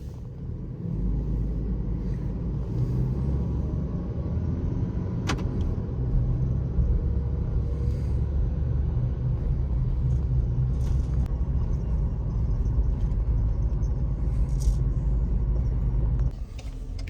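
A 2023 Ford Ranger Tremor pickup carrying a load, its engine giving a steady low cabin rumble while accelerating, droning without a break until a brief dip near the end, with no voices.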